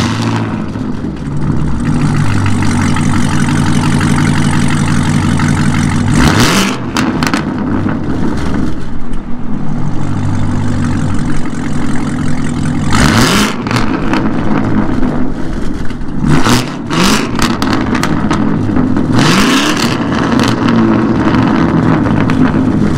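A loud, throaty modified Camaro ZL1 engine idles roughly, then is revved hard several times in sharp bursts, with wind buffeting the microphone.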